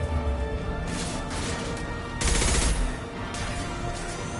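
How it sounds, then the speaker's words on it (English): Sustained gunfire in the Mass Effect 2 video game, dense rapid bursts of automatic fire and cracking impacts swelling loudly around the middle, continuous and close with no talk. "Taking fire."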